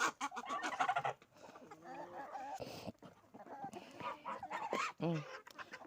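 Chickens on a farm with ducks cluck and murmur nearby in short, uneven bursts, mixed with other poultry calls, while someone talks over them.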